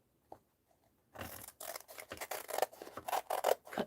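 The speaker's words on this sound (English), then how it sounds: "And then I just cut off the big spine here" A blade cutting off the big spine of an art journal: after a near-silent start, close rasping, scraping strokes follow one another at a quiet level, with no voices.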